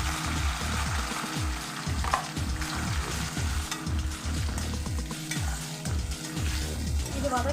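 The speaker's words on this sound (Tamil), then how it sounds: "இப்போ நம்ம வெங்காயம் தக்காளி போட்டுக்கலாம்," Onions and tomatoes fry with curry leaves in a pan, a loud continuous sizzle broken by repeated stirring scrapes, with no talking.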